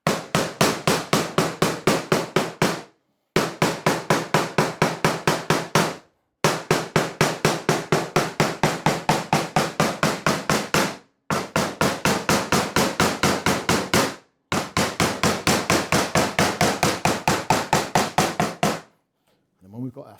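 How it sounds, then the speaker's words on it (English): A bigger hammer tapping sheet metal all the way around the edge during hammer forming for a kit car: rapid, even strikes in long bursts separated by brief pauses, close and loud, with no talking. "I'm using a bigger hammer, so I haven't got to work so hard. And what we can do is just start tapping all the way around the edge."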